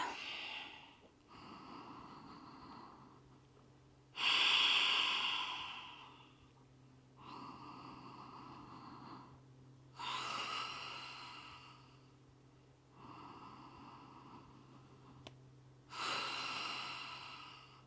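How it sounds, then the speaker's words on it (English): Slow, deep yoga breaths in a calm class setting, each long exhale sweeping through with a soft rush, about five cycles evenly spaced, close and clear over a low steady hum, no talking. "We got just about 3 or 4 more deep breaths here"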